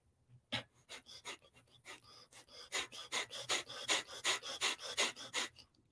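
Heavy rhythmic breathing during a morning meditation exercise, forceful breaths pumped out in a steady series that grows louder and quicker toward the end, close and alone without speech.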